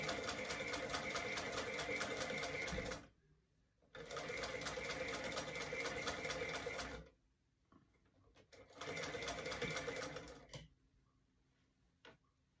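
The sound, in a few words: vintage 1859 sewing machine running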